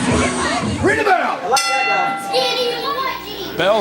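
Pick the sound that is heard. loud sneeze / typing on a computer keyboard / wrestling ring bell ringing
wrestling ring bell ringing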